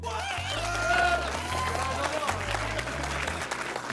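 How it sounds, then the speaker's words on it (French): An audience at a quiz night in a Pathé cinema in Echirolles applauds a contestant, steady crowd clapping and cheering over pounding background music, with a voice speaking over it. "à l'applaudimètre, qui c'est qui a envie de voir Provençal gagner"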